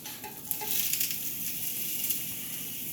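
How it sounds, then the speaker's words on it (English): Vegetables hitting a hot grill, set down with tongs, give a steady close sizzle with faint scraping and light clinks, no voices. "put them on the grill"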